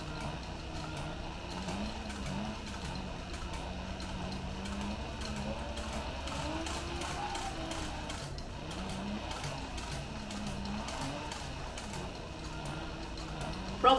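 Sewing machine stitching around a leather notebook, a steady fast mechanical chatter of needle and gears running continuously at low level, with slight speed changes and no talk.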